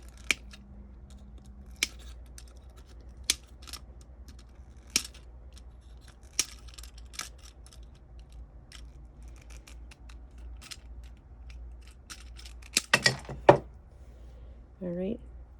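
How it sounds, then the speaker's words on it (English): Scissors snip copper wires loose from a jig while a bracelet is made, sharp clicks spaced every second or two, then a quick cluster of cuts near the end, with quiet handling noise between. "You're going to cut the wires loose from the jig."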